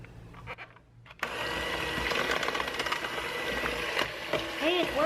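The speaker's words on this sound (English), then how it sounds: "it involves using a blender to shred the chicken" After a quiet moment a blender kicks on and whirs loudly and steadily, shredding cooked chicken, with a chunky churning texture, up close.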